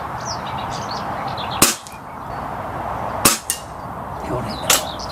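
SMK XS78 air rifle fired at a target 25 yards away outdoors: sharp, close cracks, one at about 1.6 seconds and another near 3.3, followed by a fainter snap, over steady background hiss.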